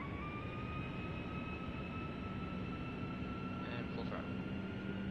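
Boeing 757-200 jet engines spooling up in a flight simulator, a steady droning roar with rising whine tones, moderately quiet and continuous, with a person talking over it.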